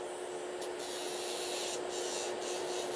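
An electric nail drill runs at 4,000 RPM during a poly gel manicure, giving a steady, close hum with a fine buffing hiss and a few brief scuffs as the bit meets the nail.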